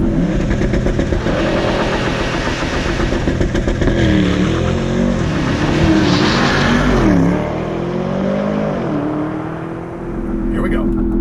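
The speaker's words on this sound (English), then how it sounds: "let's just start her off in typical Porsche fashion with a launch" A Porsche Panamera GTS Sport Turismo launches hard on a slight downhill, its engine roaring loudly and rising through revs with gear changes audible, steady and close for most of the stretch before easing off near the end.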